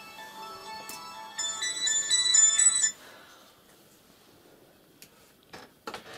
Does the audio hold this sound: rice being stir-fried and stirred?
no